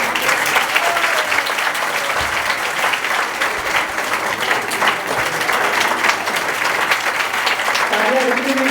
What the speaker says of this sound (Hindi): तो आइए स्वागत करते हैं, एक बार जोरदार तालियों से प्लीज